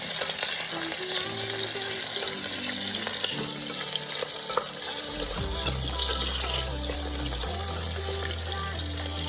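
Onions frying in oil with cardamom, cloves and cinnamon for a pressure cooker chicken curry: a loud, steady sizzle continues throughout, with a low hum and occasional scraping from stirring.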